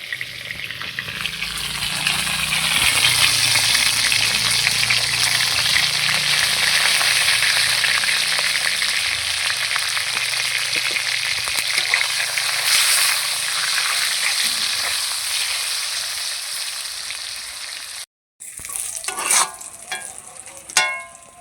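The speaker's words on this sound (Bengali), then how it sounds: "এরম করে আমি বাকি পটলটাও ভেজে নেব" Pieces of pointed gourd (potol) seasoned with salt and turmeric frying in oil, a close, continuous crackling sizzle with stirring, fading slightly before a brief break and some clattering at the end.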